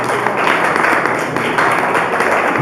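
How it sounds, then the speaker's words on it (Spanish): A church congregation claps and applauds the Lord together, dense and sustained, filling the room loudly and evenly throughout with some voices mixed in. "Dale un fuerte aplauso al Señor."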